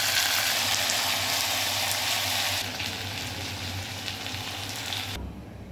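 Pirandai (adamant creeper) sautés in a pan with a loud, continuous sizzle, the frying hiss steady and close, easing slightly midway and dropping off abruptly near the end.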